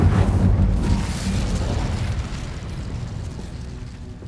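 A fiery Incendio spell cast in the Hogwarts Legacy video game, a loud rumbling burst of flame that starts strong and slowly tapers into a sustained roar, with no talking.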